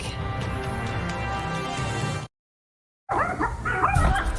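A tiny 5-pound Yorkie barks at a bear in a Fraser Valley backyard, a loud, busy burst of sound that drops out briefly before returning with sharp, close yaps.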